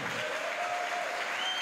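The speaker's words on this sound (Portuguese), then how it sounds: "Uma salva de palmas pro João" Brief burst of crowd applause at a drumming workshop in Brasília, a steady dense patter of clapping throughout.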